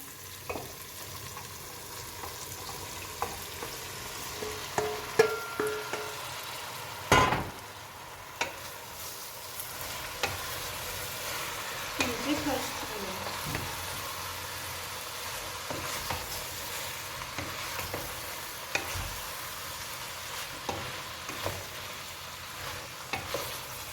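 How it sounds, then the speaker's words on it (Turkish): Washed green beans tossed into hot oil in a pot, frying with a low steady sizzle while a spoon stirs, clanking and scraping in scattered knocks, one sharper clack near the middle; no voices. "yıkadığım fasulyeleri ekliyorum arkadaşlar"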